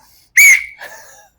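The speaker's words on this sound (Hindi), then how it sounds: "आपके भाई ने अपनी जेब में से ना ये निकाली सीटी" A whistle taken from someone's pocket gives one loud, shrill blast, followed by a weaker, wavering second toot, close by with no talk.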